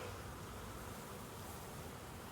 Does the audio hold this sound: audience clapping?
no